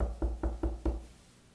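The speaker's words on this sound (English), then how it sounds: "So, Daniel gets a knock on the door" Four firm knocks on a door in an even, quick rhythm, close and fairly loud, then silence.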